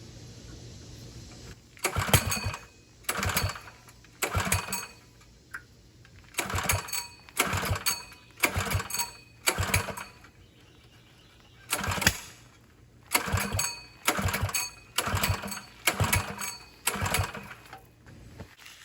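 A Coleman 200 U-EX minibike engine, freshly tuned, sputters and revs in repeated bursts of about a second each, rising and falling with short gaps, loud and close with no talk.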